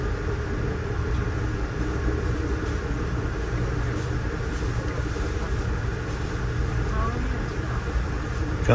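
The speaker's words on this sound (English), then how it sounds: "Comes an eastbound Norfolk Southern freight." An eastbound Norfolk Southern freight train passes near Horseshoe Curve, heard from aboard a moving passenger train as a continuous rumbling and rolling rail noise, fairly quiet and steady throughout.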